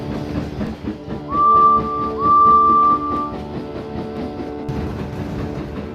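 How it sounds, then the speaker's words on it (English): A rumbling engine chugs along while a steam whistle sounds twice, a short blast then a longer one, before the rumbling continues. "As they watched the train depart"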